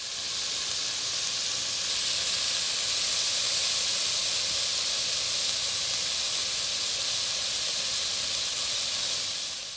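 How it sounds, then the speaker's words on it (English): Vegetables sauteing in oil in a pan for a chicken noodle soup, a steady, close hissing sizzle that holds evenly throughout with no talking. "we're gonna let that saute"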